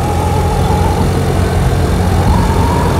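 A Honda Beat scooter engine fitted with a racing throttle body runs loud and close, a buzzing drone that rises and falls slightly as the throttle is worked.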